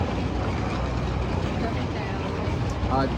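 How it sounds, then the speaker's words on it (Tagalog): A motorized tricycle ride to a hotel on Boracay produces a steady, loud rumble of engine and road noise with wind, continuous throughout and fairly close. "Sakay namin ang tricycle going to hotel."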